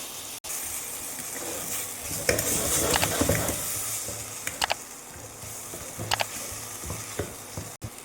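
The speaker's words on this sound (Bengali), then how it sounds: "মশলাগুলোকে খুব সুন্দরভাবে মিক্স করব আর ভালো করে কুক করব যতক্ষণ না পেঁয়াজ, টমেটো, ক্যাপসিকাম সব গলে যায়।" Onion, tomato, capsicum and spices frying for Mumbai-style pav bhaji, stirred steadily with a steady sizzle and scraping of the spoon against the pan, with a few sharper clinks, close and alone without talk.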